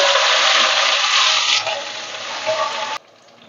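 Loud, dense sizzling of ground spice paste frying in hot oil with dried red chillies, easing slightly midway, then cutting off abruptly to a quieter background.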